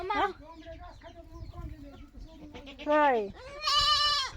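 Chickens cluck near a goat that bleats loudly in drawn-out cries, over soft outdoor farmyard background.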